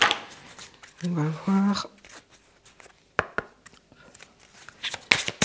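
Oracle angel cards being shuffled by hand, with soft papery flicks and a quick cluster of riffling near the end, partly mixed with someone talking.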